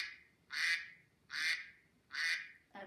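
Three evenly spaced duck quacks, each a nasal honking burst of similar loudness, sound fairly close with a quiet background and no talk.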